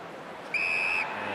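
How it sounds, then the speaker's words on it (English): A football umpire's whistle at an AFL match between Carlton and Brisbane gives one short, sharp blast of about half a second over a steady crowd hum. "There's a whistle, and it's in the back."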